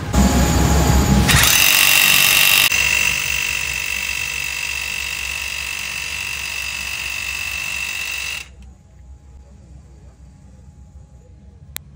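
A Diablo full carbide head rebar demon drill bit bores into concrete with a loud, steady power-tool whine and grinding roar that runs for several seconds, then stops, leaving quieter background noise.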